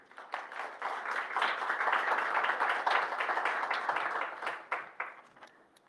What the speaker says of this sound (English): can I please also ask that you give my colleagues a round of applause as well?